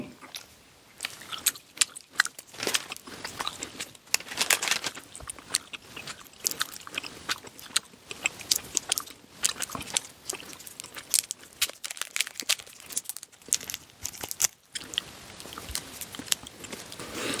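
Someone chews Fritt Powerfruit minis acerola and mango chewy candy close to the microphone, a steady run of wet, sticky chewing and smacking sounds lasting throughout, with no talking.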